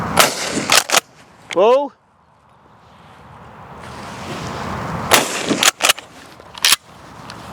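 Sharp, loud shotgun blasts from a Mossberg pump-action shotgun at clay shooting, about four or five cracks, the later ones close together, with a voice calling out in between.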